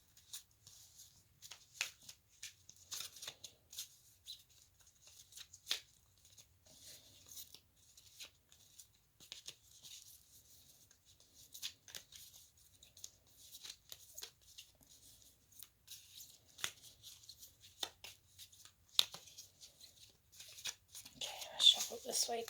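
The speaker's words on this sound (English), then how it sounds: "Shuffle this way too. These cards are quite large" Large oracle reading cards are shuffled by hand in soft, irregular bursts of papery slaps and riffles, close and fairly quiet, continuing steadily with little pause.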